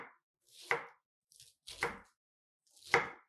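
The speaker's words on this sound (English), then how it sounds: "Slice them into very thin strips until they resemble shredded cabbage." Three sharp knife strokes through crisp cabbage, each a crunchy cut against a board, spaced about a second apart in a quiet room.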